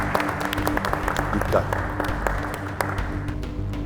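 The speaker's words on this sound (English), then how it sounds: "Round of applause" A round of applause from a small group on a wrap-job competition show, moderate and steady, with someone speaking briefly over the clapping.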